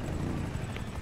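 A helicopter in a video game gives a dense, steady rotor drone with a low rumble, loud and continuous throughout the short moment, with no talking.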